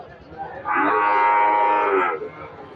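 A Friesian cow at a crowded cattle market gives one long, loud, close moo lasting over a second, with faint market chatter behind it.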